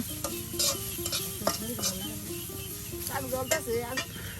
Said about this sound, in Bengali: এই যে দেখুন পেঁয়াজ এবং কাঁচামরিচ সব একসাথে এই যে দিয়ে দেওয়া হচ্ছে